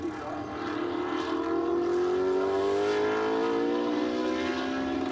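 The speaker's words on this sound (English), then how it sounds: "So uphill comes the safety car." A safety car leads GT race cars, a Bentley among them, uphill at the Nürburgring in a 2015 GT Masters race. Their engines drone steadily with a rising pitch, loud and continuous, under a commentator's voice.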